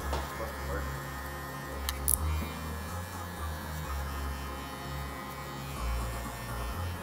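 Hair clippers fitted with a number three guard, lever open, blending a mid fade: a steady close electric buzz and hum that runs unbroken throughout, with no talking.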